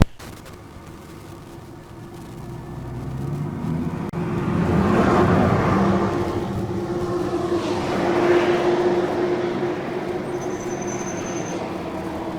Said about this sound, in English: No big deal, just a trucker driving down the road